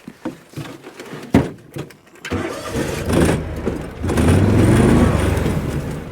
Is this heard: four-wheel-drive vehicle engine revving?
yes